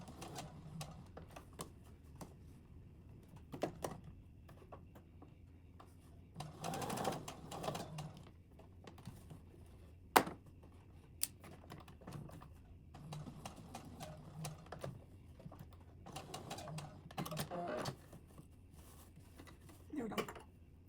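Sewing machine stitching a small doll T-shirt dress, short quiet bursts of rapid clattering separated by pauses, with soft handling sounds in between.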